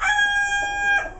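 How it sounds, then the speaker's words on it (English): A rooster crows loudly and close by in one long, strained call with a second rising note at the end, and no one speaks over it. "all I gotta do is start talking and chickens go crazy"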